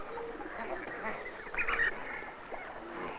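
Snow geese honking in a flock on a lake, a brief burst of overlapping calls rising out of a steady murmur of distant waterfowl noise.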